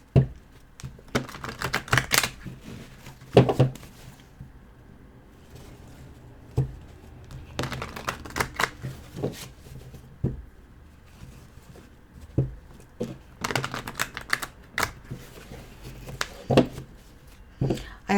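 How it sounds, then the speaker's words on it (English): Tarot cards being shuffled and cut on a table before a reading, heard as bursts of quick riffling clicks and soft slaps that come in three clusters with quieter gaps between them, close and fairly crisp, with no talking. "I always shuffle cut and clear the cards before I do the reading"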